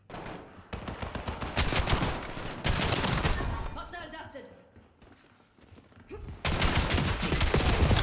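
Archlight shotgun fire in Black Ops 7, loud dense bursts of blasts with busy game action between them, easing off in the middle before a heavy volley at the end, with a voice talking over it.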